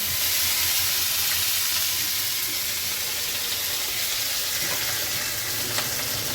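Moringa drumstick pods frying in a pan: a loud, continuous hiss and sizzle of hot oil that stays steady throughout, with no talking.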